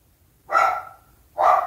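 A dog barks twice, loud and close, with two sharp separated barks in a quiet room and a brief tail after the first.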